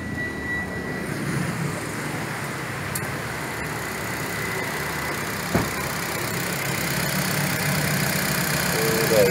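Idling engine of a 2020 Nissan Livina 1.5L fitted with an HHO fuel-saver kit, a steady low hum running throughout the clip at moderate level, with a brief click partway through and light background noise.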